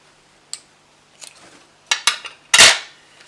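Paper ribbon about 30 cm long, folded in half and cut with scissors for a round pop-up card: a few sharp snips and rustles, the last cut the loudest and closest, with quiet gaps between.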